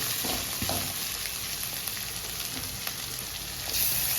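Tomatoes go into onions frying in a pan for chicken gravy, a loud close sizzle with stirring scrapes that holds steady throughout, no voices.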